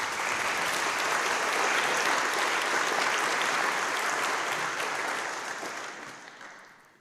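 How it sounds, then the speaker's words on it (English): An audience at an annual awards chapel applauds an absent award winner, a dense, sustained round of clapping that holds steady for several seconds and then fades out. "we can clap for him anyway"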